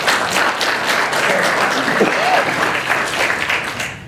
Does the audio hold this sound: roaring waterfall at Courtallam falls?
no